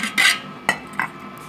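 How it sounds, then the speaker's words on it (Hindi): A metal cooking pot holding about two kilos of water is set down on a wood-fired stove, giving a few short clanks and scrapes of metal, one longer scrape followed by two sharper knocks, close and fairly loud. "चलिए जी पतीला मैंने आग के ऊपर रख दिया है।"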